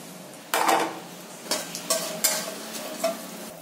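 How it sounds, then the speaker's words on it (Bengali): Whole garam masala, mace and bay leaf hit hot oil with a sudden sizzle, followed by several short scraping clinks of stirring against the pan, close and fairly loud. "এবার এই গোটা গরম মশলাগুলো ওই তেলেতে আমি ফোড়ন দিয়ে দেবো"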